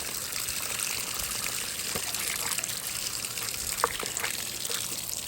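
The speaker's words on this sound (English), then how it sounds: "see if I can get the hose on this end, and with this open, just flush water out the backside" Water from a garden hose flushing through a 1968 Evinrude outboard motor, a steady trickling and gushing stream with occasional splashes, close and moderately loud.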